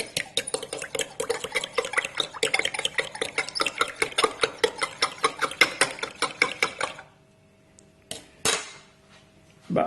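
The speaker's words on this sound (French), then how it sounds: "si je mélange avec une cuillère" A spoon clinks and swishes rapidly against a container while stirring hot water with dish soap, a steady quick rhythm that stops, followed by a couple of isolated knocks.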